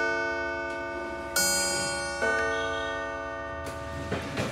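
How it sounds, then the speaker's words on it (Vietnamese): Antique European clock chiming the quarter hour with three-quarter strikes, several sustained ringing chime tones struck one after another and decaying slowly, over a steady ticking background, alone with no talk. "Con này thì 15 phút điểm chuông một lần các bác này."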